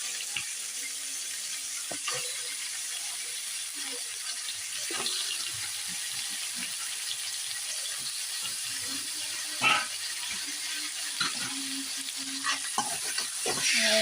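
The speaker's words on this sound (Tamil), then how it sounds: "இப்போ அதில் நம்ம கழுவி வச்ச எறாவை சேர்த்துக்கலாம்." Prawns are added to onion and tomato cooking in oil in a pan, giving a steady soft sizzle with repeated scraping stir strokes, close by and without talk.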